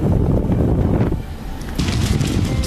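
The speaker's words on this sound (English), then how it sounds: "You can hear the fire's jet engine roar." A Ventura County wildfire in California roars loudly and close, a deep, wind-like rumble with rushing bursts of hissing noise, and no voices.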